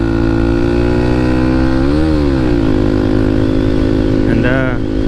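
Motorcycle engine running while riding in the rain on the way to Chick-fil-A, a loud, close, steady drone that rises briefly in pitch, with wind noise over it and a voice speaking.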